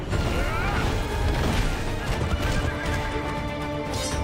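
A horse whinnies loudly amid galloping hooves and crashing effects in a video game trailer, all dense and continuous throughout.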